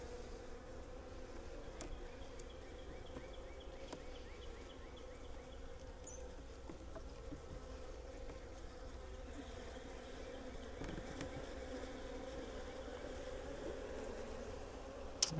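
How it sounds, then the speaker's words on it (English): Honeybees hum steadily and softly throughout a nuc hive installation, a dense continuous buzz with occasional louder passes of individual bees near the frames. "Lots of capped brood, good healthy bees."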